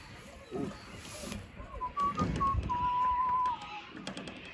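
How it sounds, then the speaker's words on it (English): Upbeat whistled tune from a person on a free-range farm, a clear steady melodic line of sustained notes over outdoor background noise and a few low thumps. "It's a bit of upbeat whistling."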